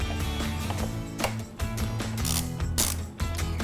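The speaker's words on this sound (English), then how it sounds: "Next, we're going to take a 30mm socket and loosen the front axle bolt." A ratchet on a 30mm socket clicks in short irregular bursts while loosening the front axle bolt of a Ducati Desert X motorcycle, close and fairly quiet.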